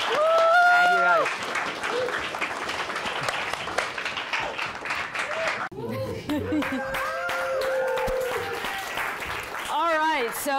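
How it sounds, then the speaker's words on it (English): Loud applause and clapping from a comedy show audience at ATL Live, a steady roar of many hands with a host speaking and whooping over it and a brief dip before the clapping resumes. "Let's give it up for Colin Quinn, y'all. Clap it up."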